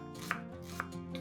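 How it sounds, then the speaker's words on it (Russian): A knife chopping an onion into small cubes on a board, with two distinct sharp chops close up and a softer third at the end, over a quiet background hum. "Одну луковицу нарезаем небольшими кубиками."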